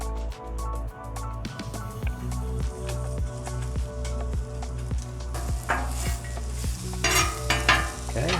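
Onions frying in a pan for patty melts, with steady sizzling and repeated stirring scrapes over low kitchen hum, growing brighter and busier toward the end.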